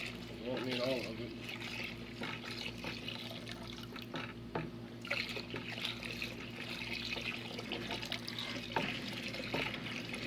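Water poured from a jug into a home-brew batch, a steady liquid trickle and splash running low under continuous talk throughout.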